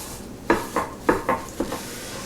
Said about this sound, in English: I'm going to kind of grease the pan with that